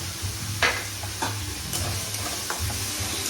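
Onion, ginger, garlic and green chili paste fry in hot oil for a fish curry, a steady close sizzle with a few spoon scrapes and stirs breaking through.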